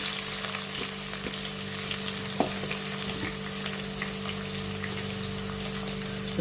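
Onion and whole spices fry in hot oil, giving off a steady, close sizzling crackle with a few small pops and a faint hum in the background.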